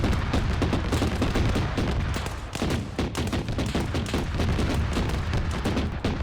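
Heavy .50 caliber machine gun fire in a military shooter game roars loud and nonstop, with dense, rapid bursts of shots layered together in a continuous barrage.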